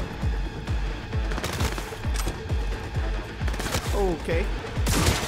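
Rapid bursts of gunfire from the video game Cyberpunk 2077, repeated shots with sharp transients throughout, while a player talks briefly over the action.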